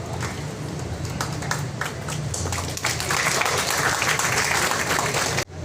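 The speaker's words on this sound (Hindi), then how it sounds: "जोरदार तालियां हमारे चेयरपर्सन और मैम के लिए" Applause from an audience at a media production house launch in Noida, Sector 62, with steady, fairly loud clapping that swells slightly partway through before stopping abruptly.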